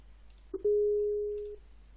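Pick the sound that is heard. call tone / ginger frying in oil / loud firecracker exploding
call tone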